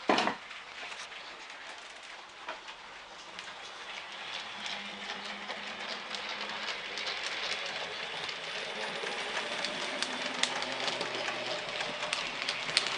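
A model railway train runs around the Buckingham layout, an old loco from about 1948, giving a faint steady rolling hiss and clatter that grows slightly louder as it travels.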